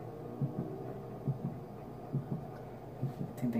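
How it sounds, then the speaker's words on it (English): A heartbeat terror-radius warning in the Dead by Daylight horror game thumps in slow, evenly spaced low double beats over a faint hum, with no talking. "When you hear the heartbeat, that means he's close."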